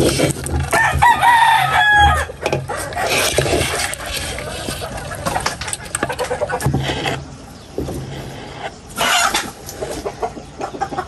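Chickens cluck and a rooster crows nearby, with busy, overlapping farmyard noise throughout.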